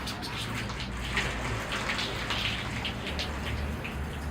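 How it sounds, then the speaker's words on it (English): Water rinsing over a Ficus religiosa bonsai and flushing through its soil in the pot, a steady close splashing patter like dense rain, constant throughout with no talking. "The tree is rinsed off. The soil's rinsed out."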